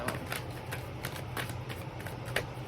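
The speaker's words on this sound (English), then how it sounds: "Shuffle these real good" Tarot cards shuffling in a steady run of quick riffling snaps, close up, with a constant low hum in the background.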